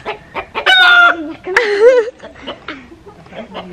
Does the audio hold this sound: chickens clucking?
yes